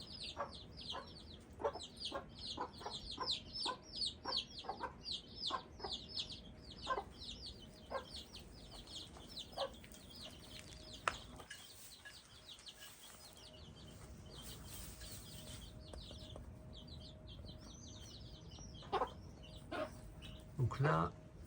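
Hen and chicks on their first outing, the hen scratching at the ground for insects and seeds while a string of quick, high clucks and cheeps repeats near the recorder, faint scratching noises underneath and a brief quieter stretch midway.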